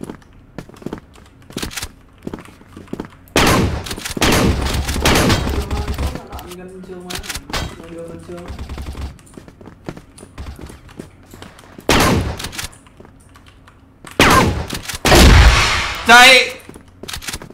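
Shotgun blasts in the CrossFire shooter game, a three-round shotgun firing loud, sharp bursts near 3.5, 12 and 15 seconds, with reload clatter in between and a voice speaking briefly.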